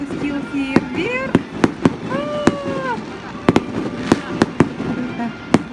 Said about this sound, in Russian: Кто-то запустил фейерверк.